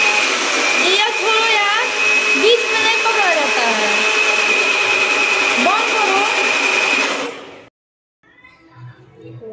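A loud mixer grinder whirs steadily with a high motor whine, voices talking over it, then it cuts off abruptly near the end.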